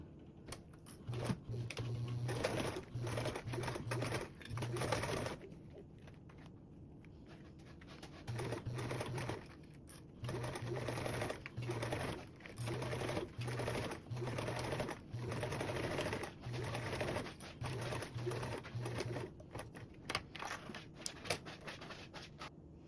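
A sewing machine topstitches along the long edges of a fabric sling strap with a 1/8 inch seam allowance, running in steady whirring bursts that stop and restart several times, close and clear with no talk.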